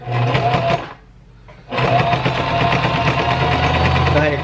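A sewing machine stitches along a line in close, loud whirring bursts: a run of rapid mechanical chatter, a brief pause, then a longer continuous stretch of stitching.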